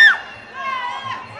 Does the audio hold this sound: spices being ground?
no